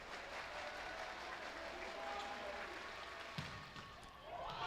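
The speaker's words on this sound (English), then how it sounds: "clapping starts." Crowd at a volleyball match clapping and cheering as the team takes the first set, a steady wash of applause and voices at moderate distance, with a sharper burst near the end.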